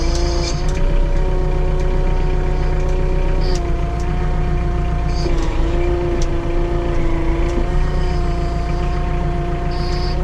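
A tractor engine drones steadily close by while the loader hydraulics strain and whine, running all three functions at once, pitch dipping and rising under load.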